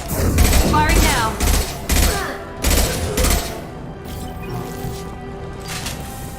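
Bursts of gunfire in the video game Mass Effect 2, several loud rapid volleys in quick succession, then fading into quieter combat ambience.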